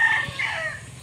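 A rooster, a broodcock, crowing close by in one short, loud, strained burst.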